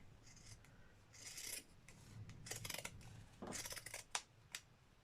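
Pinking shears snipping through the messy ends of fabric for a teapot cosy, a series of crisp rasping cuts in short bursts with quiet gaps, close and clear, ending in two sharp closing snaps.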